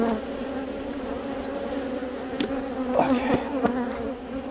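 A honey bee buzzes steadily and close against a beekeeper's veil at an open hive, a loud droning hum with brief taps as it bumps the mesh.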